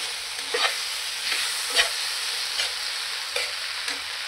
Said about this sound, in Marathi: आणि हे टोमॅटो केचप हे सर्व टाकून व्यवस्थित असं हलवून घ्यायचं.